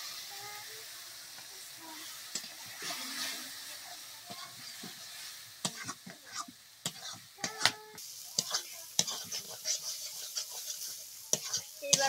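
Spices with chilli powder frying in a pan while a spoon stirs them, giving a soft steady sizzle broken by frequent sharp scraping and clattering strokes that grow busier and louder in the second half.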